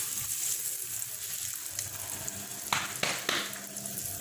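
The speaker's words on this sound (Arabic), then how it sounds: "دابا غادي نبداو نقليو" Chicken escalopes frying in a hot pan give a steady close sizzle, with a few sharper crackles and spatters bursting out near the end.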